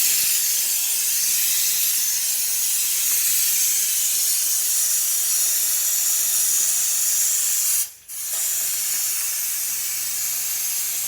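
A steamer hisses continuously at close range while heating car window tint for removal, a steady loud rush broken by one brief dip before resuming.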